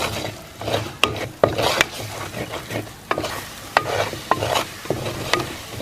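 Spice powders, including meat masala, are stirred in a pan for Kerala-style chicken roast, with repeated spatula scrapes and sharp clacks against the pan over a low, steady sizzle, close and fairly loud.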